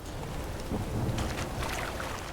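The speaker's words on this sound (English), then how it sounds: "This downpour's a bastard, it is." A heavy rain downpour during a storm in The Witcher 3 video game, a steady hissing wash of rain with low rumbling underneath, continuous and moderately loud.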